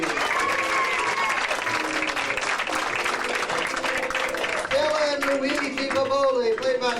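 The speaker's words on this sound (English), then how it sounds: "let's all give a round of applause for Maria" An audience claps steadily in sustained applause, dense and continuous, while a voice speaks over the top of it.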